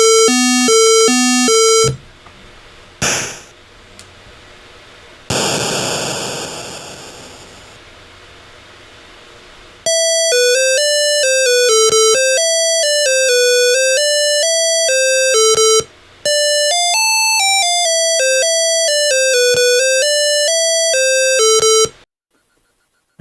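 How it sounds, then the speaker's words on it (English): A Nanocomp 6809 sound generator plays chiptune-style effects: short beeps, a quick zap like a bullet, a long decaying noise burst like an explosion, then a loud run of stepped electronic tones resembling a Tetris melody. "then a bullet sound, then an explosion, and then the sort of Tetris sounds"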